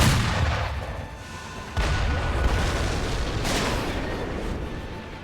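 Mortar fire in the video game Sekiro: Shadows Die Twice, with two heavy booming blasts rising out of a constant loud, rumbling battle noise.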